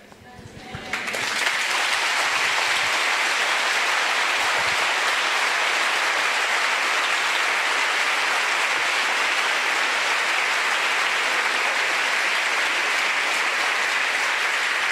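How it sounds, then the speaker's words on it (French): Applause from a church congregation swells in within the first second and then holds as steady, dense clapping right to the end, loud and close with no voices over it. "j'espère, et sincèrement j'espère, que ce n'est pas moi que vous applaudissez"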